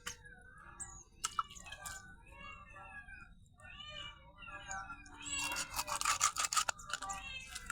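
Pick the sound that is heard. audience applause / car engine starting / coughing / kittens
kittens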